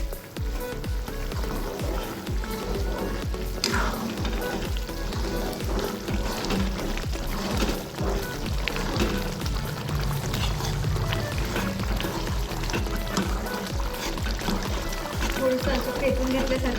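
Remaining ingredients poured into a frying pan for a home-cooked vegetable dish, giving a dense, steady crackling hiss like rain on a surface that lasts the whole time, with a voice talking over it.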